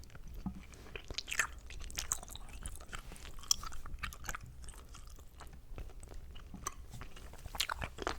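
Close, quiet chewing of chewy candies, with soft wet mouth clicks, smacks and sticky crunches in an irregular rhythm over near silence.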